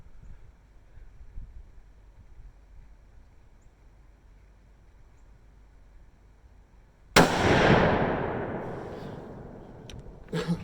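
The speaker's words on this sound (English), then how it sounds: "this gun is loud, like 300 Magnum loud with this short barrel" A single loud gunshot from a short-barreled Savage 11 Hog Hunter rifle chambered in .338 Federal cracks sharply after a quiet outdoor stretch and then rolls away in a long echo, with a faint second pop near the end.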